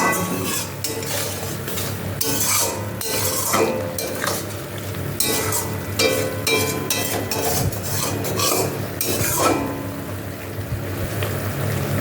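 A dish seasoned with salt and a little sugar is stirred and braised in a pan, with a steady scrape of the utensil and a soft sizzle running continuously throughout, and a tonal hum sitting underneath.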